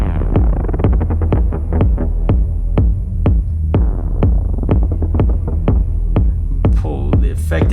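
A tech house ripping synth runs on a two-bar loop, heard as rhythmic pulsing stabs over a constant deep bass hum, loud and steady with a brighter swell near the end.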